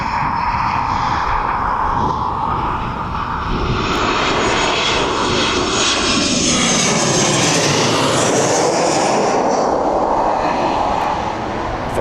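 A Ryanair airliner at East Midlands Airport roars past with loud, continuous broadband engine noise that swells and shifts in pitch as it moves, with no talk over it.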